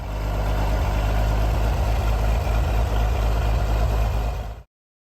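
Oliver 1650 tractor engine running while pulling through farm furrows, a loud steady low diesel rumble with an even throb, close and alone, ending abruptly.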